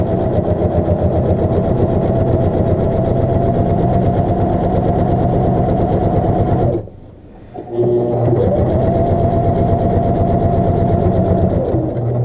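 Sewing machine stitching a mock French seam, a loud close steady mechanical whir that stops briefly for a back stitch and then resumes running forward.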